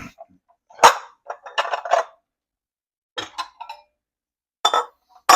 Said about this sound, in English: Let me grab a bowl here.